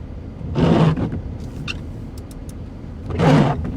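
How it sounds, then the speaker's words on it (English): Two drawn-out rubbery squeaks about two and a half seconds apart, the swipe of wipers across glass inside a car, with faint ticks and rumble between. "my windshield wipers are making noise"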